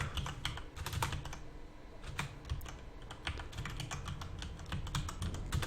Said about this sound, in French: C'est très dur d'écrire sur un clavier